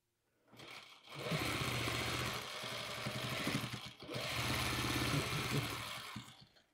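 A sewing machine runs in two long steady bursts, stitching the points of quilt fabric for hidden flying geese blocks, with a brief pause between them and no talk.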